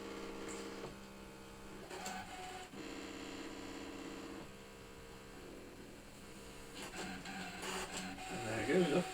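A Brother ScanNCut DX cutting machine runs its scanner through calibration, giving a steady mechanical whir and hum with a stretch of rapid motor buzzing, then a louder rattling move near the end, close by and fairly quiet.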